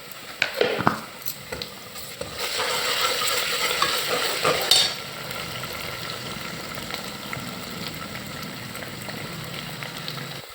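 Ginger garlic paste fries with browned onions in a pan for mutton curry, a spoon clattering and stirring over a brief louder sizzle burst that settles into a quieter, steady frying hiss.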